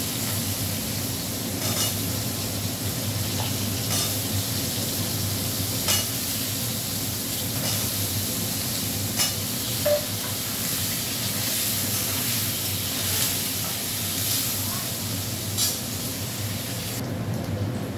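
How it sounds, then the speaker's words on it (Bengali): Potatoes and onions fry together in hot oil, giving a steady, loud sizzling hiss that runs throughout, with occasional stirring clicks and scrapes in the pan. "আলু পেঁয়াজ একসাথেই ভেজে নেবো"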